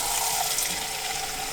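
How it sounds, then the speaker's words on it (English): Water gushing steadily from a campervan tap into a jug, a continuous close hiss with no talk over it. "600ml, turn the water on."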